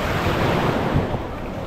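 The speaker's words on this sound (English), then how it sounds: "Wow, strong waves." Strong ocean waves break at Oslob, Cebu, in the Philippines, a loud, close, continuous rushing wash mixed with wind buffeting the microphone, with no voices.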